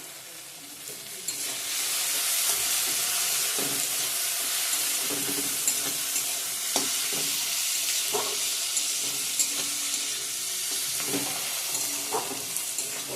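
Ginger sizzles loudly in a hot pan while country chicken gizzards are being cooked, a constant bright frying hiss broken by occasional clinks and scrapes of stirring, close up and without talk.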